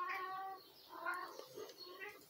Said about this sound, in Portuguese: Tem um gato passeando aqui atrás.